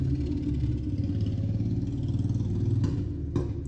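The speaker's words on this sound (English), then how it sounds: "You guys are hearing the motorcycle go on by" A motorcycle rolls past outside during a budgeting session at home, heard as a medium engine hum that swells and fades over a few seconds at moderate distance, with light clatter and no talking.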